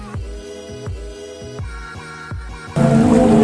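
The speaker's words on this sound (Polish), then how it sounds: "gdzie znajdują się tak zwane organy morskie" Tonal pipe notes from the Zadar Sea Organ, pipes built into the seaside shore and sounded by waves, recur as a series of low, hooting pulses before a louder rush of broadband noise takes over near the end.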